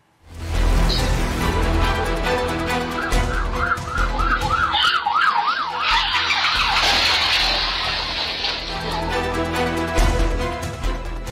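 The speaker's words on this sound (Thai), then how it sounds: "แล้วคุณได้ยินเสียงรถพยาบาลป่ะ ใช่ได้ยิน วี่วอวี่วอวี่วอมาแต่ไกล" An ambulance siren wails in a fast rising-and-falling pattern, approaching from a distance over traffic noise, then gives way to louder road rumble.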